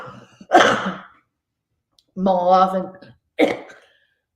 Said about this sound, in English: Excuse me for the coughing attack.